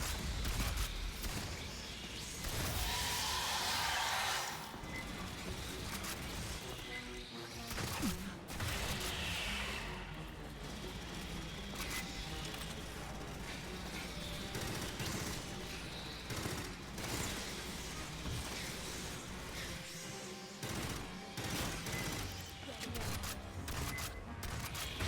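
Player's gun firing in the shooter Aliens: Fireteam Elite, dense rapid bursts of gunfire running almost nonstop over loud game noise, with talk mixed in.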